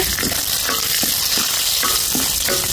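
Mustard seeds tempering in hot oil for a Tulu-style kodhel, with a loud, steady sizzle and repeated sharp pops from the seeds close by.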